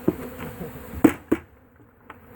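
Honeybees from a boat removal buzz close by in a steady, low drone, with a few sharper bursts as individual bees fly near.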